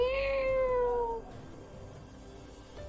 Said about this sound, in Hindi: तभी उसे एक बिल्ली की आवाज़ सुनाई देती है।